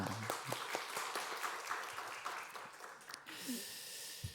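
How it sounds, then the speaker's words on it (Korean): Church congregation at a Korean Thanksgiving Sunday service breaking into applause, a dense wash of clapping from many hands that fills the room for several seconds before fading out. "우리 격려의 박수 들어가겠습니다"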